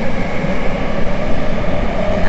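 A Tokyo Metro 7000 series train running just after leaving Ikebukuro and rounding a wide curve, heard from inside as a loud, steady rumble of wheels and motors.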